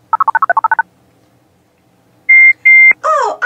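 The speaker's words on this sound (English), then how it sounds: "Noisy Star can make beep beep sounds to let everyone know that a big bulldozer is coming." A cartoon star character makes beeping sounds, a quick run of rapid electronic beeps followed after a pause by a few long, loud tones and a warbling electronic sweep.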